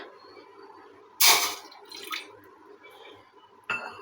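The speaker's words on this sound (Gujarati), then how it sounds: "તપેલી ગેસ પર લઈ લીધી છે એમાં આપણે જે માપનું પાણી લીધું છે ઉમેરીએ" Water splashes and trickles into a cooking pot on a gas stove while jaggery shakkarpara are made, with a few short, close pouring bursts over a soft background.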